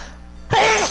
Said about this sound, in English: That's like my 6th time sneezing with you.